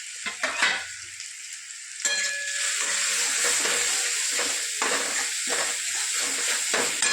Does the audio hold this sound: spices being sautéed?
yes